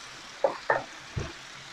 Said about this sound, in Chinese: 我们把刚刚炸好的这个豆腐放下去， 好，翻炒一下呢